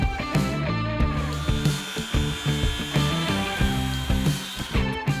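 A power saw cuts an Easycraft ceiling panel sheet, a loud close rhythmic buzzing grind with repeated pulses running steadily throughout.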